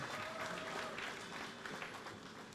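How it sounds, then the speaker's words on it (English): Faint, steady applause from an audience at the Vision on Mission 2017 event, a soft continuous patter of many hands with no voices on top. "you need to give him a round of applause for that"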